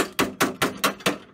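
Five sharp, evenly spaced hammer blows strike wooden parts during a beer-crate racer build, close and loud with no talk.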